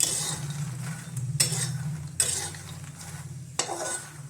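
Makhana (fox nuts) dry-roasting in a pan, with a low crackle and four sharp scraping stirs at regular intervals, no speech.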